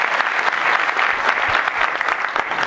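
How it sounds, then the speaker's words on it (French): Studio audience applause on a French game show, a dense burst of steady clapping from a crowd, loud and close, lasting a few seconds without speech. "Ben bravo, on les applaudit"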